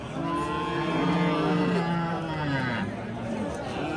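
Cows mooing among the cattle rows at the Angren livestock market: several long, low, drawn-out moos that overlap one another, heard over a constant murmur of crowd chatter.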